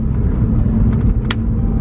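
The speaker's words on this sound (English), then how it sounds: "Bit of a DSG fart there" A 2018 Stage 1 Audi RS3 with 510 bhp and a DSG gearbox rumbles steadily, then lets out one short, sharp exhaust crack on a gear change.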